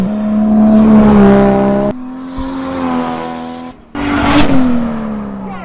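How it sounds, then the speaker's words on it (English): A 1977 first-generation Toyota Celica Liftback with a swapped 1JZ engine roars past in several loud flybys, its engine note climbing and dropping as it approaches and recedes, with brief cuts between passes. "now we're gonna do some flybys"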